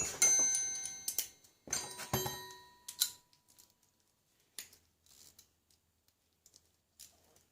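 A wrench working an 8mm bolt off the rear brake caliper of a 1999 Kawasaki VN1500 Drifter: close, rapid ratcheting clicks in bursts, then sparse faint ticks and taps.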